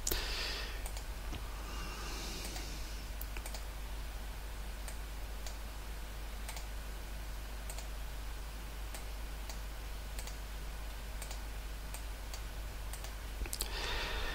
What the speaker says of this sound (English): And I'm going to click on the next button.